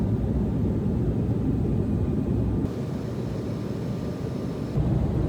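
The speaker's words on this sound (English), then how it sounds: "have made it in the sky on our Embraer E175LR" Inside an Embraer E175LR airliner in flight, a steady, loud broadband roar of engines and airflow fills the cabin, with a constant faint tone on top and a slight drop in level midway.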